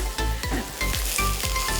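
Ginger and chili padi sizzle loudly in hot oil while being stir-fried, a steady crackling hiss broken by repeated scrapes and knocks of a spatula against the pan.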